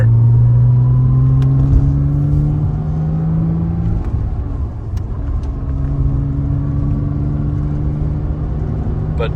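A 2007 Porsche Cayman S with a six-speed manual drives along, its engine a loud, close droning hum whose pitch climbs through a gear and drops, then settles into a steady cruise with road rumble beneath.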